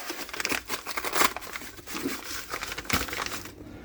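A mail-order parcel of car door hinge parts for a Skoda Octavia Tour is torn open, giving close crinkling and rustling packaging sounds in irregular bursts.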